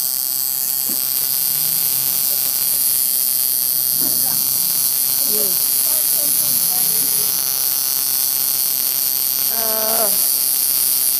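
Electric tattoo machine buzzing without a break, loud and close, with a steady hum and a few quiet voices and movements underneath.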